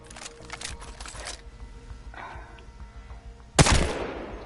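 R-301 rifle gunfire in the video game Apex Legends: an opening stretch of rapid shots, then a quieter pause, then one sharp, loud blast that trails off.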